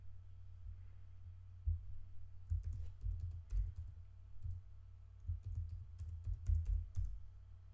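Quiet bursts of key clicks from typing on a computer keyboard come in short irregular clusters over a low steady hum, with no speech.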